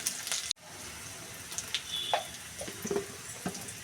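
Whole spices, panch phoron, dried red chilli and bay leaf sizzle in hot oil with a steady frying crackle, close and fairly loud, with a few scattered pops and clinks and no talking.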